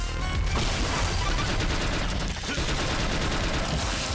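Rapid gunfire from The Mummy Demastered video game, a dense continuous burst of shots with booms and crashes filling the whole stretch, loud and unbroken.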